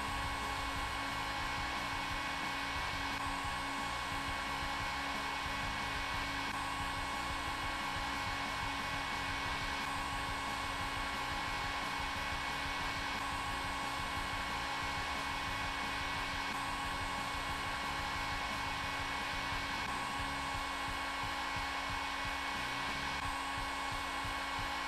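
A heat gun blows steadily on a Squids tape trap for tool tethering, producing a constant, close whirring roar that holds an even level throughout.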